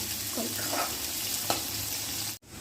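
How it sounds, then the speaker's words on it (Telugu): Green chillies and onions frying in a hot tempering of spices for gongura brinjal curry, a steady crackling sizzle with a few stirring knocks before a brief dropout near the end. "పోపు వేగినాక మనం పచ్చిమిర్చి, ఉల్లిపాయ వేసుకుందామండి. ఒక 2 నిమిషాలు ఫ్రై చేద్దాం."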